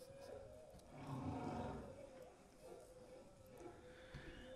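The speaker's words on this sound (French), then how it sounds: "Donc, baleine à bosse mâle à Madagascar." A male humpback whale sings off Madagascar, with long moaning tones and deeper roaring swells rising and falling over steady underwater noise.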